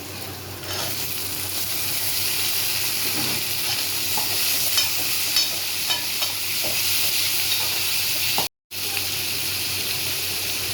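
Onion and tomato fry in a pan with a continuous loud sizzle and hiss, broken by repeated stirring scrapes and a brief dropout near the end.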